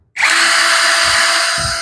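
A Hukan F66 cordless drill with a 13 mm auto-lock chuck spins up sharply from silence and runs at a steady loud whine, close by.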